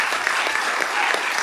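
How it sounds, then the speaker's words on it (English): Audience applause at a quarterly board meeting honoring SkillsUSA competitors, steady dense clapping filling the room without pause, moderately loud throughout. "So please give them a round of applause again."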